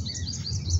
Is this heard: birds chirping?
yes